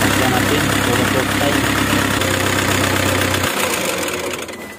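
A Toyota Hiace van engine runs at a loud, rough idle with a knocking, chugging rhythm for a few seconds, then drops off and quiets as it shuts down.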